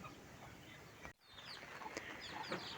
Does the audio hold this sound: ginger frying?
no